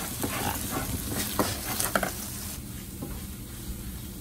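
A seasoned mix of peppers and onions gets stirred in a pan, giving quick scraping and soft sizzling strokes up close, busiest early and settling into a quieter simmer.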